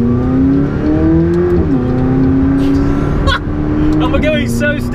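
A loud McLaren 675LT engine drones steadily at cruising speed, its pitch dipping briefly as it shifts, with faint chirps and rattles over the steady roar.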